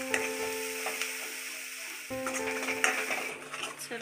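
Masala being stirred and mixed in a hot pan while making black-masala rassa for Maharashtrian patwadi, giving a steady close sizzle with scraping stir strokes and occasional clinks, no talking.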